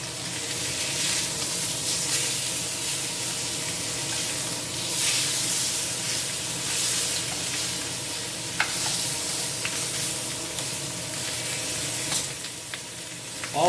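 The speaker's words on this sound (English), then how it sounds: "this is that searing action you want to get out of this" A pork tenderloin sears in a hot pan for an Instant Pot Hawaiian pork dish, producing a loud, steady, close sizzle that hisses without a break and swells slightly in places.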